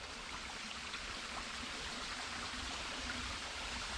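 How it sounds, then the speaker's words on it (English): A small waterfall near an old farm dumpsite rushes and splashes in a constant, even wash of water noise, faint and uninterrupted, with no voices. "that's a waterfall."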